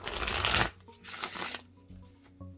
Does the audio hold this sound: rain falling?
no